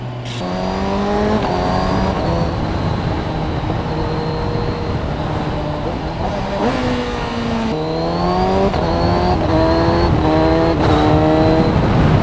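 Kawasaki Ninja 1000SX engine under way, loud and steady, revving up through the gears with rising pitch sweeps and quick shifts, with wind rush throughout.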